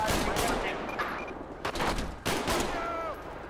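Rapid gunfire in the video game GTA 5 during an LSPDFR police callout at a store, with loud bursts of automatic shots and several sharp single cracks packed into a few seconds.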